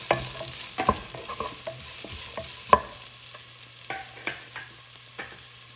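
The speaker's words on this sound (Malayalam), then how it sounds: "ഇത് നന്നായിട്ട് മുരിഞ്ഞു വരട്ടെ" Sliced onion with a little salt sautés in a pan, with a soft, quiet sizzle and a series of sharp scrapes and taps as a spatula stirs it, one knock standing out.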